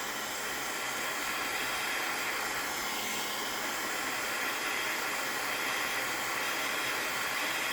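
A dryer blows a steady, loud rush of air over a watercolor-painted die-cut bird, a continuous close hiss with no break.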